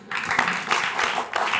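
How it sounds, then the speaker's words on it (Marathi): A short, loud burst of audience applause at a Marathi stage event, many hands clapping together in a dense wash for just over a second. "अरे वा, टाळ्या प्लीज"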